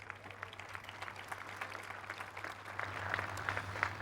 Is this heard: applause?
yes